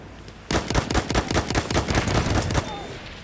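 Rapid bursts of gunfire from a Battlefield 1 match on the Nivelle Nights map, a dense run of sharp, loud shots starting abruptly and continuing for about two seconds before cutting off.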